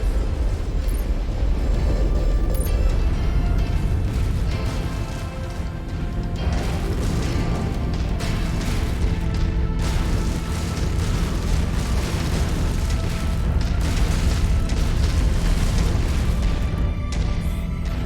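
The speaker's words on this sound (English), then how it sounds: "Enemy mech destroyed" Enemy mech blowing apart in MechWarrior 5 combat: a dense, sustained roar of booms and crashing debris, loud and continuous throughout with overlapping blasts.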